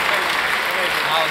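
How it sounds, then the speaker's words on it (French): Audience applause at a convention talk by Jed Brophy, a dense, steady wash of many hands clapping at once, loud and close, with no gaps across the short stretch. "Un bon applaudissement pour Jed Brophy"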